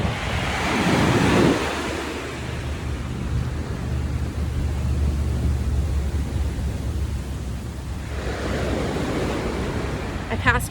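Ocean waves wash onto a beach under steady wind, a continuous loud roar of surf with wind buffeting the microphone and swells building at the start and near the end.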